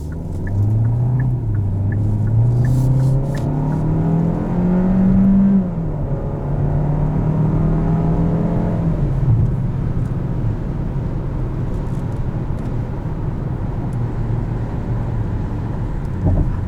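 A 2021 Kia K5 LXS sedan accelerates on the road, its engine a steady low rumble that climbs and shifts in pitch as it pulls, with continuous road and wind noise inside the cabin and no talking.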